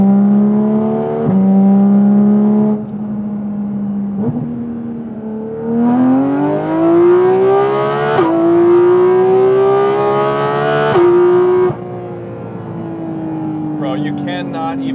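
Porsche Cayman GT4 RS flat-six engine revving hard toward 9,000 RPM, a loud close wail climbing in pitch through several gear pulls with brief shift breaks, ending in a steady high drone.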